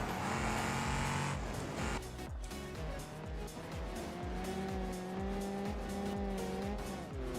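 A Moonhawk car racing in a video game, its engine revving hard and climbing through gears while tires squeal and skid, loud and continuous throughout with no voices over it.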